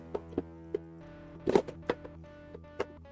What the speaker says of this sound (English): That's the sound of me closing my biscuit container.